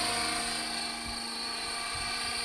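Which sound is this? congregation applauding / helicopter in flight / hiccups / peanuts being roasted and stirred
helicopter in flight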